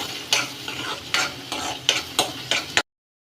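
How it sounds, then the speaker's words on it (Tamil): Ground garlic chutney hisses and sizzles in hot tempering oil while a spoon stirs it in repeated scraping strokes, about five bursts over a steady fry, close and fairly loud, before cutting off abruptly. "அரைச்ச சட்னியை தாளிப்பில் ஊற்றினால் பத்தே நிமிடத்தில் ரெடி"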